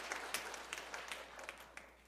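A church congregation claps for new members, a faint, distant patter of applause lasting a couple of seconds.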